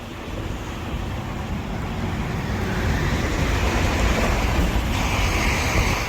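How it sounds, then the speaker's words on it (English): Constant broadband rumble of road traffic near the Delaware River crossing into New Jersey, a steady roar that swells slightly over the few seconds with no voices. "Sorry about the road noise"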